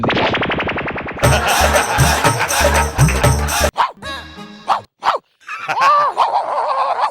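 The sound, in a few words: person imitating a dog barking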